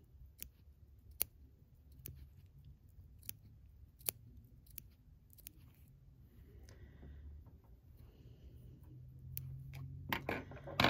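Scissors snip through beading thread while making beaded confetti earrings: several sharp, quiet clicks spaced irregularly over a low, steady room hum, with a slightly louder rustle near the end.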